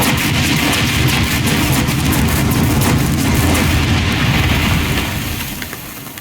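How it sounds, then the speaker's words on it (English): Heavy rumbling explosions in the War Thunder combat game, a loud continuous roar of blasts and debris that keeps up for several seconds and then fades toward the end. "Explosions becomes bland after a while."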